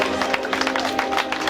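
At an award ceremony, a crowd applauds Elisabeth with dense, continuous clapping that fills the whole moment at close range.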